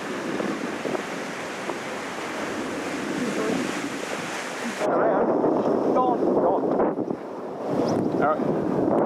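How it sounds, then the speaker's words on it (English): Rough surf and churning sea water around rocks at Piha beach, a continuous loud wash of crashing, swirling water with heavy wind buffeting on the microphone. "this is a really nasty cauldron of water here"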